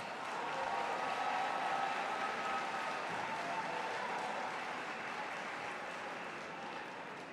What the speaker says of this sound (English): If I could have a round of applause for all of our HVAC graduates